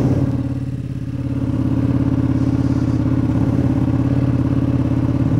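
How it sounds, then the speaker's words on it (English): A BMW M1000RR superbike engine runs close and loud, with a deep, throaty exhaust note pulsing steadily throughout and a brief dip near the start before settling into a sustained rumble. "Wow, it's a completely different bike right off the bat. It's so much more throatier sounding."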